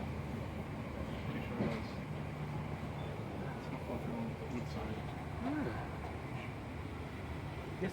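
Interior of a passenger train riding the rails near Ormskirk, a steady low rumble with occasional track clatter, while people talk quietly in the carriage over the noise.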